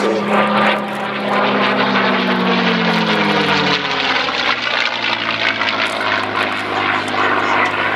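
A P-51D Mustang flies past at an air display at Sywell. The loud propeller engine roar starts with a falling drone, then holds a steady, heavy growl for the rest of the clip.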